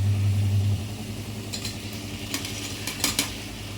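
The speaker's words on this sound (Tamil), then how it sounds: "கியூப் கியூபாக பன்னீரை இப்போ இதில் சேர்த்துக்கலாம்" Paneer cubes go into a pan for paneer biryani, followed by a steady low cooking hum and a few light metallic spoon scrapes and taps against the pan, close and moderately loud.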